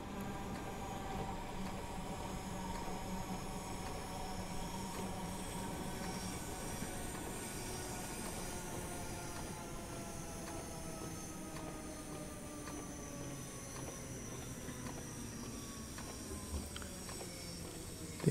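Continuous rumble of a train running in a train driving video game, with smooth rising and falling wheel and motor tones gliding over a steady track noise, moderately loud and alone.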